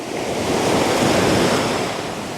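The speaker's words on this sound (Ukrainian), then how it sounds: "Звук хвиль." Ocean waves recorded in stereo on a Boya Link A-2 microphone without noise reduction surge and wash in a steady, close roar, broad and hissing, swelling slightly in the middle before easing off.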